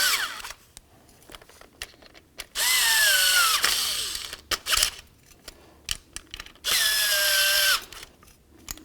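A power drill snugs the mounting screws of a front window regulator on a 1999-2007 Ford Super Duty F-250, in two loud, steady whirring bursts of about a second each, separated by quieter handling clatter.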